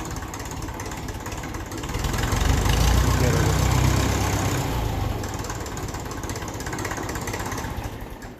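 A 1954 Ferguson TEF 20 diesel tractor engine idling close by with a steady low chugging that swells louder for a few seconds, then settles back to an even run.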